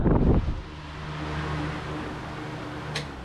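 A steady whooshing hum of a new electric wall fan blowing air, constant and moderately loud after a brief thump at the start.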